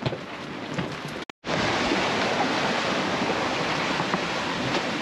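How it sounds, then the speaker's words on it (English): Heavy, continuous wash of Pacific Ocean water and surf roaring close by at night after rain squalls, with a brief dropout near the start, then a steady pounding rush of waves slamming against a boat's hull. "the waves are like slamming in"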